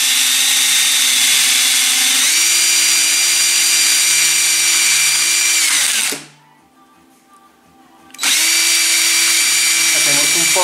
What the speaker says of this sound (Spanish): Ya teniendo la broca y el taladro, vamos a abrir el hueco con el que vamos a poder introducir los tornillos del repuesto